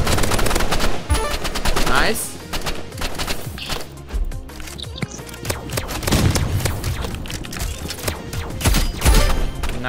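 Gunfire rattles through a Roblox Rivals match in rapid bursts and scattered shots, with loud repeated blasts and a few heavier booms, all close and dominant.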